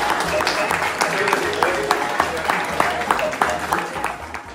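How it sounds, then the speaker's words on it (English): Audience applause at a British Army engineer regiment's cultural event, a steady round of clapping from a crowd with faint voices underneath, moderately loud and sustained. "can we have a big round of applause for everybody who's contributed."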